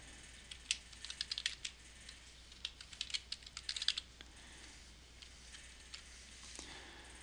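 Fingers type on a computer keyboard in quick, faint bursts of key clicks, with a short pause before a few scattered final taps.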